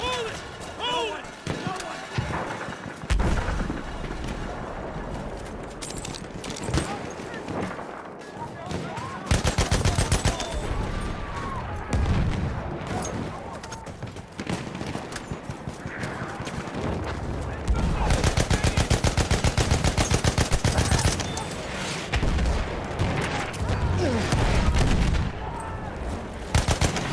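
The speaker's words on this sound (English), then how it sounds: "Enemy machine gun over there!" Enemy machine gun fire in a military video game, sustained loud bursts and rapid volleys running throughout, mixed with shouted voices and other battle noise.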